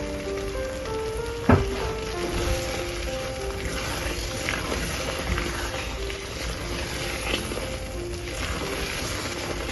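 Dal frying in a pan with a steady sizzle and occasional stirring, and one sharp utensil knock near the start, continuing evenly throughout.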